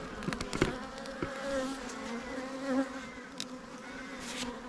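Honeybees buzz steadily in an open, busy hive under inspection, a dense continuous hum with a few brief louder passes close by, no voices.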